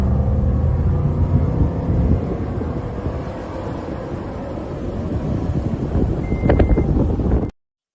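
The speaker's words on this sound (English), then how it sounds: "So I've been running without a muffler on my truck ever since." A pickup truck engine runs with no muffler, a loud, rough, steady low rumble with rising throttle toward the end before cutting off abruptly.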